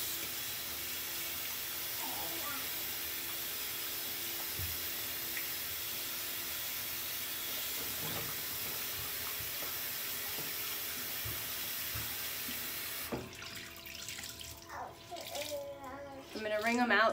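Tap water runs steadily into a sink as two face cloths are soaked, a continuous wash of flow that breaks into louder splashing and sloshing near the end as the cloths are handled.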